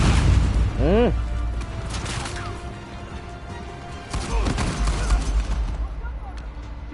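Sniper rifle shots in Uncharted 4, a few sharp booming reports spaced seconds apart, with a rising whistle-like tone early on and a voice talking over the game.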